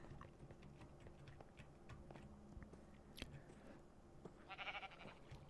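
Sheep bleating in Minecraft, a short blocky bleat rising near the end over low game ambience and scattered clicks, fairly faint.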